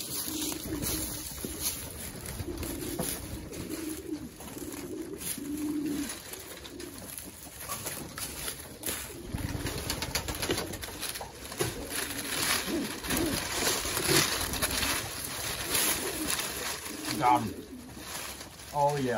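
An escaped racing pigeon cooing outdoors amid steady wind and background noise, with soft repeated low coos scattered through the stretch and people talking at times over it.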